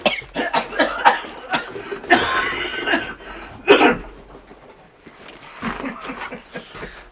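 A man coughs repeatedly in short bursts beside a snowbound ATV stuck on a trail, the coughs close and loud, interleaved with chuckles and bits of laughter.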